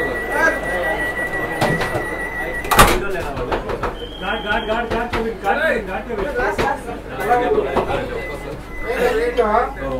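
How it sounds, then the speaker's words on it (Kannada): The automatic door of a Vande Bharat Express train slides shut with a sharp broadband thud, surrounded by constant chatter and chuckling from people nearby. "ಅದಾಗಿದ ತಕ್ಷಣ ನಿಮಗೆ ಡೋರು ಕ್ಲೋಸ್ ಆಗುತ್ತೆ"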